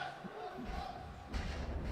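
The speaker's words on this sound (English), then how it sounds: "The crowd actually going nuts here." Esports arena crowd at a Dota 2 final match roars and cheers, a dense wash of distant voices with a sudden swell near the end.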